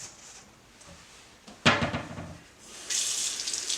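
Warm water runs from a kitchen tap for making bread dough, starting with a sudden splashing gush after a faint clunk, then a steady hiss of flow that grows louder near the end, with no talking.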